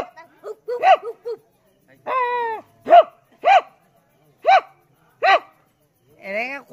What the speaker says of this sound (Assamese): কুকুৰে মাতি দিছে আপোনাৰ মাত শুনি